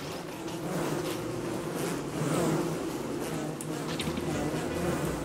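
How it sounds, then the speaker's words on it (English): Swarm of killer bees buzzing in the video game Don't Starve, a continuous droning hum that holds steady throughout, moderately loud, with faint background game sounds. "Now I have way too many killer bees chasing me."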